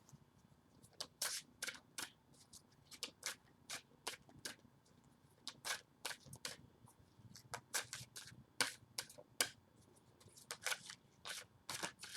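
Tarot cards being shuffled by hand in quick, irregular flicks and riffles, soft, crisp papery slaps repeating throughout at close range and fairly low volume.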